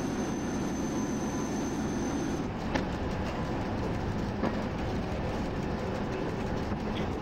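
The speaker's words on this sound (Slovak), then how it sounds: "Pozor, bráško, že ide vlak." A train passes in the RailWorks simulator on a Czech line, a steady rumbling roll with faint clicks of wheels on rail joints and a couple of brief sharp taps, moderately loud with no talk.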